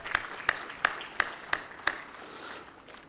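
A single clap repeated about six times at an even pace, a faint sparse rhythm at a graduation ceremony, fading out after a couple of seconds.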